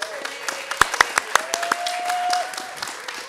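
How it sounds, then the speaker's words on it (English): A small audience at a young water professionals' debate gives sparse, scattered claps, several sharp individual hits rather than full applause, with a faint tone and a murmur of voices. "So can we have a round of applause for Ellie?"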